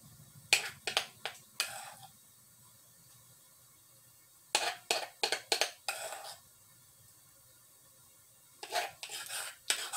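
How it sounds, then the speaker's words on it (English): Biscuit dough dropped by the spoonful into an iron skillet, giving clustered clinks and scrapes of spoon on metal in three bursts, close and fairly quiet, with quiet pauses between. "we'll probably have 6 or 7 spoonfuls here that I'm dropping into my iron skillet"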